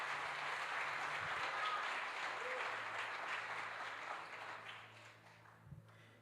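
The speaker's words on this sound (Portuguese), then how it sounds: "Você pode aplaudir Jesus?" A church congregation applauds during a sermon, sustained clapping from a crowd, fairly distant and even, easing and fading over about six seconds.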